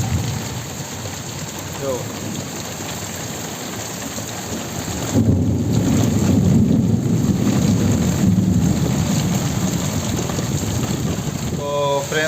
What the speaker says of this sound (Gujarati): અત્યારે વરસાદ ખૂબ જ આવી રહ્યો છે